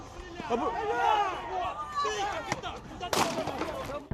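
Several sharp gunshots crack out amid shouting voices and commotion, with one especially loud shot near the end.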